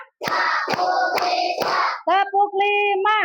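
Four crisp, rhythmic hand claps of a tepuk semangat routine ring out over a group's chanting voices, followed by a short sung or called phrase with no clapping.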